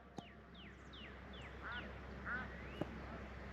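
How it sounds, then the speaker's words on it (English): A duck gives a repeated alarm quack from far off across water, a quick run of descending calls heard faintly over steady outdoor background noise. "she is doing her alarm quack"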